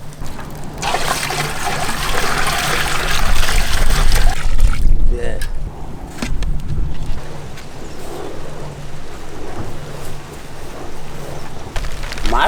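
Steady rain hisses and patters on a surface outdoors in a village, with a low background rumble throughout.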